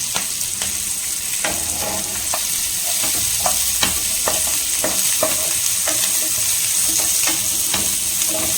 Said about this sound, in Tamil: பட்டரில் வந்து நம்ம ஓரளவுக்கு ரோஸ்ட் பண்ணிட்டோம்.